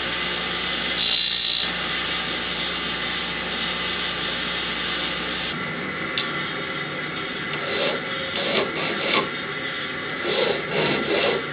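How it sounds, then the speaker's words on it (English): A grinding wheel rasps steadily against a wooden press hood, rounding it off with a continuous close abrasive hiss that shifts slightly in pitch partway through and stays alone without voices. "Then I grind it a little rounder with a grinding wheel."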